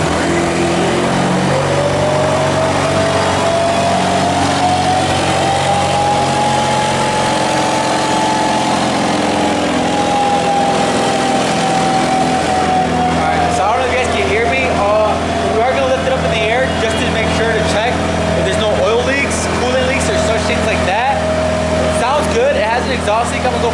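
A 2015 Ford Mustang's 2.3 EcoBoost engine with an exhaust leak idles steadily, then revs up and settles back, loud and close, while people talk over it.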